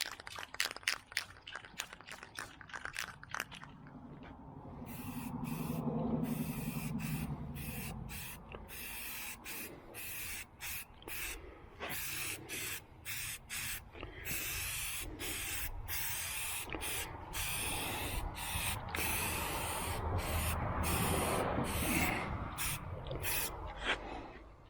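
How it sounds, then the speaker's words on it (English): Primer sprayed from an aerosol can, close hissing bursts: a run of short rapid puffs, then longer sustained sprays broken by brief pauses. "So let's do the primer first."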